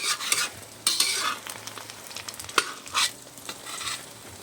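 An egg omelette with cha-om (acacia leaves) frying in a large pan, bright sizzling bursts and hissing oil with intermittent scrapes and stirring sounds close by.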